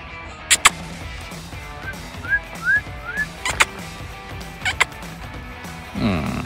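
A turkey gobbles several times in a row, with short rising calls and sharp clucks spread over a few seconds, amid light outdoor background noise.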